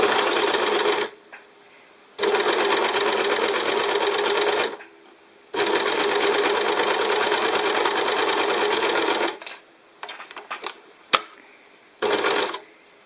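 A sewing machine stitches minky fabric in long steady runs of fast mechanical whirring, stopping and restarting between stretches, with brief handling clicks in the gaps.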